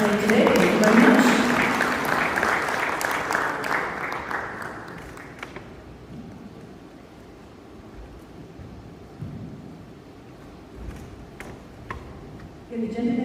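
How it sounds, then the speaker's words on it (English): An audience applauds summit panelists in a hall, a dense clapping burst that fades over several seconds into quiet room noise with scattered faint sounds. "Will you please give a huge round of applause to our panelists today."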